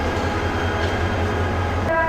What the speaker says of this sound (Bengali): আবার পাশ দিয়ে চলে যাচ্ছে কিশোরগঞ্জ অভিমুখী এগারো সিন্ধু প্রভাতী